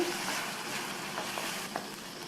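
Chopped medium tomatoes go into a frying masala for a Tamil potato side dish, giving a steady soft sizzle with a few scraping stirs of the spoon, close and fairly quiet, no voices.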